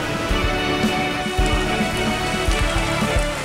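Heavy rain pours during Christmas Mass at the cathedral in Makassar, South Sulawesi, a dense continuous patter with scattered louder drops and drips close by, no voices.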